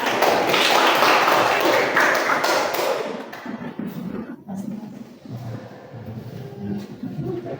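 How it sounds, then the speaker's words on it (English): Students clap in a seventh-grade math classroom, a loud, busy burst of hands for about three seconds that then drops away to quieter room noise and scattered knocks. "Give applause for us."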